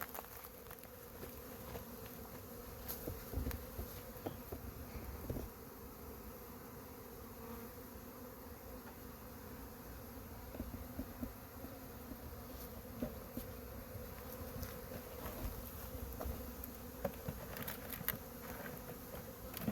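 Honey bees buzz steadily around hive frames during a nuc transfer into ten-frame deeps, a dense continuous hum with individual bees passing close now and then.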